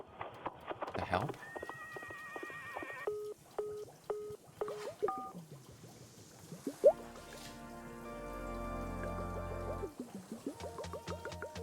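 A horse whinnies amid recurring telephone-like beeps and tones in the cozy tea-shop game Wanderstop, mixed with trickling drips and interrupted by stretches of talking.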